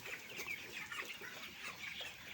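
Broiler chickens in a poultry farm, a dense, continuous chorus of clucking and chirping from many birds, faint and steady with no talk.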